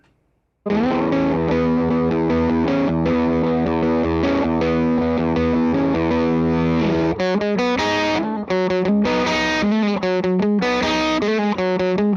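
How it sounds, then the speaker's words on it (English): A distorted electric guitar, a cheap Gibson with its tone knob rolled down, plays sustained chords, then choppy rhythmic strums, with a warm, muffled tone lacking bright treble. "if I roll the tone down, I get pretty darn close to a neck pickup sound"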